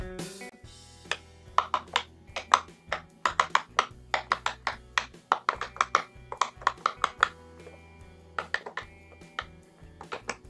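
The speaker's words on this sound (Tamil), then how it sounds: "இப்போது நம்ம இதை பாப்பெட் பண்ணி பார்க்கலாம்" Handmade paper pop-it fidget toy shaped like a popsicle gets pressed bubble by bubble, giving a quick series of crisp, close tapping pops in uneven bursts with short pauses between.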